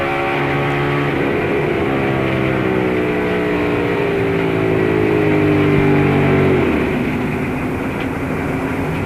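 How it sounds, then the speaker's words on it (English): In-car sound of a 2002 NASCAR Winston Cup stock car at Rockingham, a loud, sustained V8 engine drone that shifts in pitch as the motor goes sour, steady and close throughout. "You'll hear that engine going sour and the radio."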